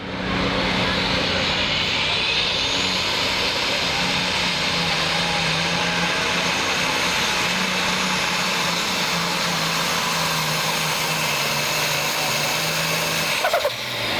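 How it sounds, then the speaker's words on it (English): A big twin-turbocharged diesel International pulling tractor engine roars continuously at full strain at a tractor pull, loud and close, with a high turbo whine riding over the rumble. "Twin turbochargers on this tractor."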